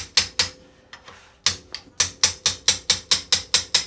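Metal spanner wrench turning the shock absorber spring collar on an RM125 motorcycle, heard as sharp close ratcheting clicks, a few scattered at first and then a fast, even run of about a dozen.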